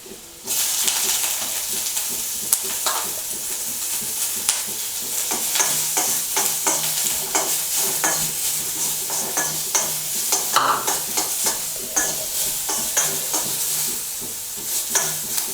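Ginger garlic paste and onion fry in hot oil with a steady, loud sizzle and hiss, broken by frequent scraping stirs against the pan.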